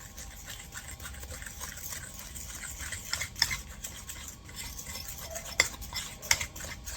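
An egg mixture is stirred vigorously, making a soft continuous swishing with a few sharper clinks and taps of a utensil against the pan or bowl, close and fairly quiet.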